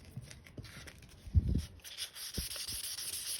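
Hand sanding with a Velcro-backed sanding pad while colour sanding an MQ Triton's paint, short soft scratchy rubbing strokes, close and fairly quiet, one stronger stroke in the middle.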